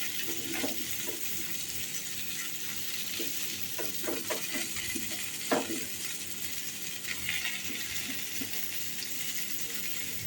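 Chopped onion frying in hot oil for a potato and pumpkin curry, giving a steady close sizzle broken by scattered clicks and scrapes of stirring, with no talk.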